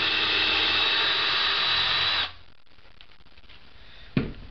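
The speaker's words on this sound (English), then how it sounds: "take our drill bit and pre-drill a hole at a downward" A power drill pre-drills an angled hole into the wood of a birdhouse, whining steadily for about two seconds before stopping abruptly, followed by quiet and a single knock.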